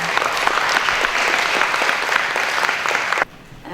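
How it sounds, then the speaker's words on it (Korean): A lecture-hall audience at a lifelong-learning forum in Ansan breaks into sustained, loud applause that holds steady for about three seconds and then cuts off abruptly to quiet. "큰 박수 부탁드리겠습니다."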